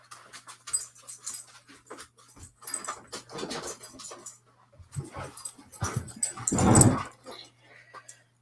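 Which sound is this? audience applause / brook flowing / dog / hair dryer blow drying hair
dog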